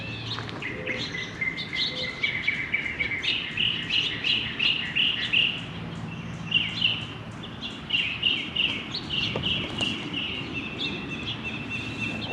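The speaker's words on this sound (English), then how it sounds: "I'm going to be quiet for a minute because the birds are singing." Birds chirp and trill repeatedly in bursts along the Carquinez Strait near Crockett and Port Costa, a lively chorus of high tweets at moderate distance over faint low background hum, with no voices.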